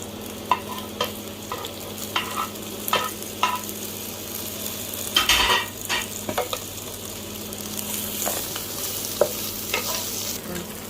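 Sausages, cheese-filled or plain, stir-fried in a pan with sugar: a steady close sizzle with repeated scraping and clinking of a utensil against the pan, no talk.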